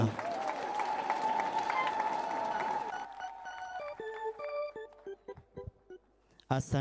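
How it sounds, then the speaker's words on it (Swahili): Applause from a crowd at a Catholic deanery family day gathering. It rings out steadily for a few seconds over a sustained tone, then gives way to quieter scattered tones and faint sounds. "Tuwapigie makofi tena."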